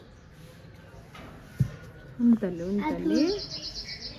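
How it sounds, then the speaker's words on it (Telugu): Birds chirp around a village house, a short burst of bright, quick tweets rising late in the moment over a soft outdoor background while a person talks nearby. "ఇంకో ఇక్కడ అన్ని బర్డ్స్ తిరుగుతున్నాయి చూడు"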